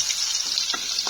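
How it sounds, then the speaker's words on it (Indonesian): Small pieces of flour-coated food fry in hot oil, giving a steady bright sizzle and hiss with a few soft pops, without any voices. "Aku gorengnya juga sedikit-sedikit."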